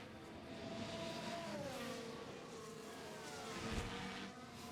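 Simulated Formula 1 race car engine at the Austrian Grand Prix, a sustained high-revving whine with pitch shifting up and down through gear changes, steady and fairly loud with no talking.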